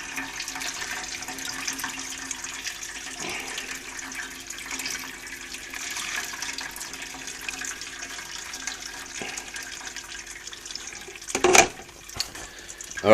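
Water poured through steeped grain in a sieve during home brewing of an amber ale, a steady soft trickle and splash running throughout, with a brief louder gush near the end.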